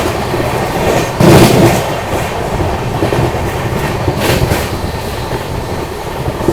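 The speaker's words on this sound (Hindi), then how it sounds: "तो अभी अपनी ट्रेन ने स्किप किया कालपी रेलवे स्टेशन।" Passenger express train running between Panvel and Gorakhpur, heard from onboard near Kalpi station: steady rumbling wheel noise with rhythmic clickety-clack over rail joints and a louder burst early on.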